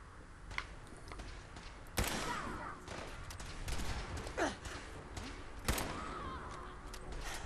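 Gunfire in Fallout 4 comes through fairly quietly as a few sharp, separate shots spaced seconds apart, over a low, rumbling game background with no speech.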